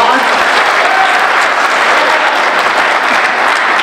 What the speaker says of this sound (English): Please hold your applause so we can maximize our time here tonight